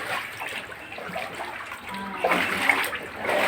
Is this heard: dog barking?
no